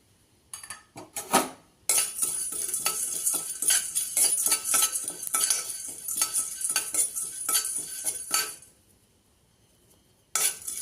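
Cumin seeds dry-roasting in a pan for idli podi give off a dense run of small crackles and metallic clinks over several seconds, with a short pause, then a brief burst again near the end; no voices.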